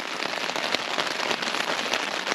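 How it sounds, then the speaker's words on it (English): Heavy rain hammers on a tent pitched along the Colorado Trail, a dense, continuous patter close overhead with no pauses and no voices. "it's absolutely hammering it down with rain"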